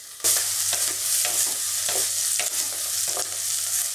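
Onions and curry leaves sizzle steadily in hot oil in a pan, with a spoon scraping and stirring at a regular pace throughout.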